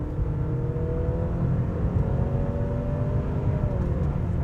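A 2024 Honda CR-V 2.0L e:HEV hybrid accelerating in Sport mode, a steady low engine drone with a rising whirring tone heard from inside the cabin, continuous and fairly loud.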